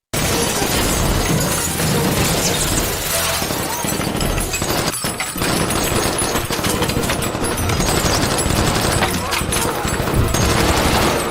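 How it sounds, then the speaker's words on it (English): Film scene of gunfire shattering a hotel's glass ceiling: loud bursts of shots and breaking, crashing glass that continue densely throughout, with speech mixed in. "Jack and John successfully fought back against the enemy by shooting at the hotel's glass ceiling"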